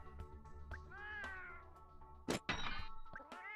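A cat companion in Monster Hunter Now gives several short, close meows and chirps, mixed with soft taps and a couple of sharp interface clicks.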